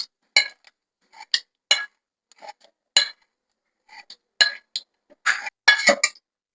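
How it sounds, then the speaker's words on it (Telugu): A spoon scrapes and clinks against a pan and bowl in short separate bursts as a fried mustard-seed tempering is scooped out for a cucumber-coconut chutney, close and clear, no talk. "ఈ బౌల్లోకి తీసేస్తున్నాను."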